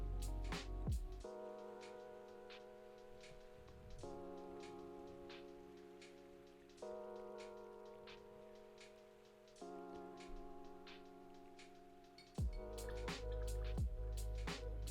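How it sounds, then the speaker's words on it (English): A paintbrush swished and tapped in a jar of water during watercolour painting, with small splashes and drips at the start and end over a steady soft background tone. "Just gonna rinse my brush."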